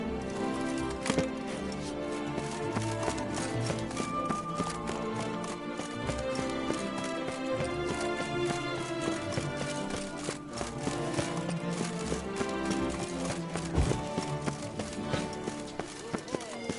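Roach, a horse in The Witcher 3: Blood & Wine, gallops with steady hoof clip-clop under a continuous bed of game music, with a voice speaking briefly over it.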